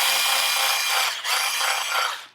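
Old screws being driven into a guitar pickup cavity on a PRS S2 McCarty 594 with a power screwdriver, a steady buzzing whir with a brief dip midway before trailing off, close and without talk.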